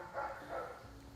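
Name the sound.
dog barking across the street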